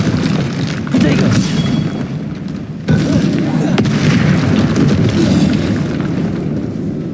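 A Protego shield spell cast in Hogwarts Legacy during combat, with loud, dense booming bursts that hit at about one and three seconds and then sustain a heavy magical rumble.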